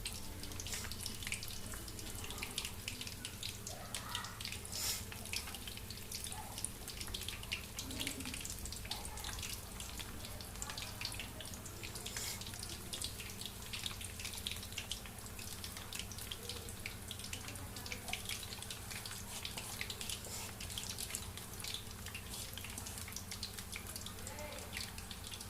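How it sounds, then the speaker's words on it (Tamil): Onion bonda batter frying in hot boiling oil, a steady faint hiss with fine continuous sizzling crackle lasting throughout, with someone speaking quietly at times. "எண்ணெய் காய்ஞ்சி நல்லா இந்த மாதிரி கொதிக்கும்போது வந்து பார்த்திங்கன்னா"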